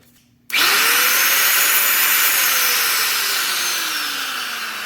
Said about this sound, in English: I take two batteries and I run my vacuum with it